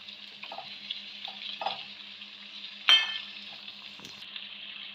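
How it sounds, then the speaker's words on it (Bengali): Potatoes being stirred into chicken kassa frying in a pan, with a steady sizzle throughout and several short scraping stirs, one louder clatter near the middle, no voices. "আলুটা মাংসের সঙ্গে ভালো করে মিশিয়ে নেব"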